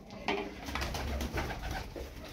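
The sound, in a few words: pigeons cooing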